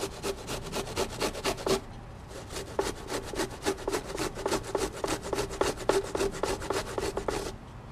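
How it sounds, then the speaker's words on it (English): Fresh, fibrous ginger root rasps against a grater in quick, regular back-and-forth strokes, close and crisp, with one short pause in the middle of the run. "But I just take it and just start grating."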